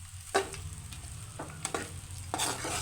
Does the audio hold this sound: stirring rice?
yes